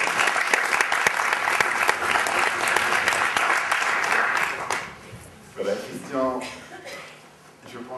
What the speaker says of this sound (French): Encore applaudir 10 secondes